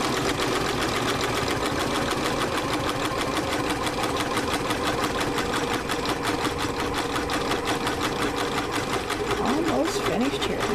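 A multi-needle embroidery machine stitching a hat at 800 RPM, its rapid, even mechanical chatter and whir running loud and continuous throughout, with a brief voice-like sound near the end.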